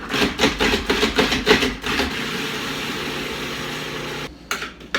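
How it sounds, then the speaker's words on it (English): A food processor pulses an onion in a series of quick, close bursts of whirring motor noise over the first two seconds. A steadier hum follows, then a few clunks near the end. "I'm going to pulse this until I'm happy with the size."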